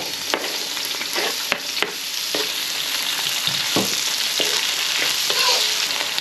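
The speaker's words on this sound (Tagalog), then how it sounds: "medyo pa brown brown natin ng konti yung bawang para malasa siya sulog natin ang sibuyas" Garlic and onion sauté in a hot pan with a steady, loud sizzle and crackle throughout. Several sharp utensil scrapes and taps against the pan are heard, and no one is talking.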